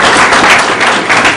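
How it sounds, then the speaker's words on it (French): Applause from an audience at an official launch ceremony, honouring a children's performance: dense, steady clapping from a crowd filling the whole moment, no voices rising above it. "je voudrais des tonnerres d'applaudissements pour ce que ces enfants viennent de faire"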